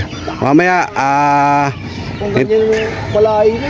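Chickens and young stags on a farm call up close, with loud drawn-out crowing and clucking cries, then softer clucks.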